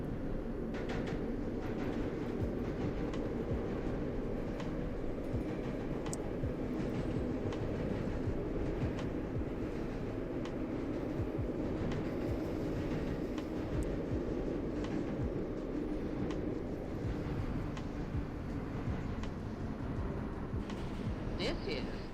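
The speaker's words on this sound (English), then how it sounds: "Train is ready to depart from Flatbush." A subway train in the OpenBVE simulator departs Flatbush Avenue in Brooklyn, giving a steady, continuous rumble and rail hum throughout, with voices occasionally over it.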